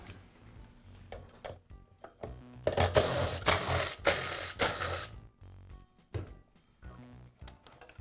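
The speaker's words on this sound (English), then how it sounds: "I'll begin by removing the front pulley guard." Screws and a front pulley guard come off a Milwaukee band saw, giving a quiet run of clicks, ticks and mechanical rattles with a few louder rasping bursts in the middle.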